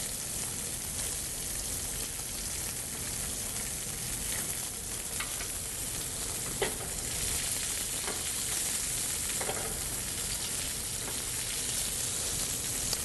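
Salmon fillets sizzle steadily in a hot pan, a continuous bright frying crackle with occasional sharper pops as the fish is flipped over.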